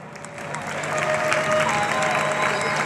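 An audience applauding the president on stage, a dense, sustained clapping from a crowd that grows slightly louder and holds steady.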